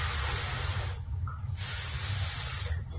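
A person makes a sustained hissing "s" sound in imitation of a snake, with a short pause in the middle before the hiss resumes. The sound is close and loud.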